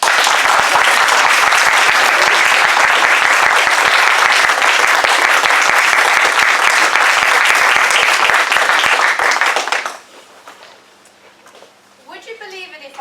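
An audience at a meeting claps loudly and continuously for a speaker for about ten seconds, then the applause cuts off and a voice begins talking.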